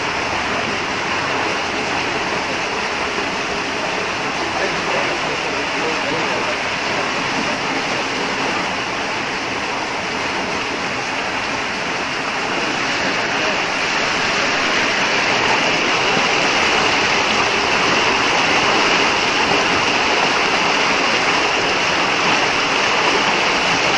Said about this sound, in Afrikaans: Ja, dis waar die water nou weer uitkom.